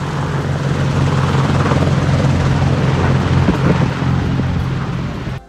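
Two Apache military helicopters lift off nearby, their rotor and engine roar loud and steady for about five seconds, with a deep thumping low end that fades slightly at the end.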